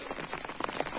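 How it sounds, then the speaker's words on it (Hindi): Rain falls steadily at a bus stop during a school run, a dense continuous patter with scattered nearby drop hits, loud and close with no talk. "बारिश हो रही है"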